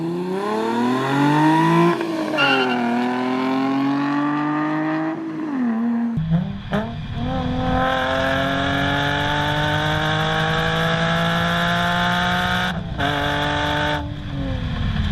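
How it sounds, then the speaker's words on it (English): A Nissan 350Z with its muffler deleted revs up and settles, its engine and exhaust giving a smooth, fairly loud tone that climbs and dips, then steadies at a higher idle with a few quick blips, nobody speaking. "I think with the muffler delete though, it's just like the perfect sound."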